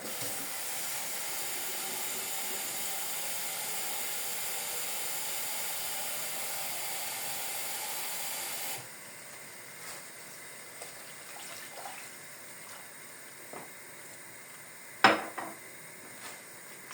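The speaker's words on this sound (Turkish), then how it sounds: "Şimdi şu sıcak suyumu ilave ediyorum." Hot water poured into a pot of Turkish düğü soup, a steady loud hissing rush for several seconds, then quieter kitchen clatter and a sharp knock.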